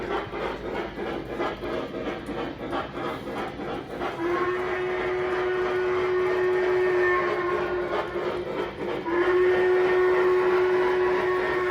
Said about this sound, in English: We're gonna blast the horn a couple, or the whistle a couple times